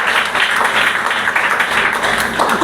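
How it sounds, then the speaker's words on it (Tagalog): Audience clapping at a VBS church seminar, a steady dense wash of applause that holds evenly for the whole stretch with no voices over it. "Palakpak."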